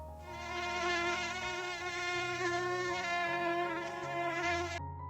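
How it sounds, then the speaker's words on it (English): A single mosquito whining continuously close to the ear, a thin steady high-pitched buzz wavering slightly in pitch for about five seconds before cutting off abruptly. "Just one mosquito buzzing in your ear is enough to ruin your sleep"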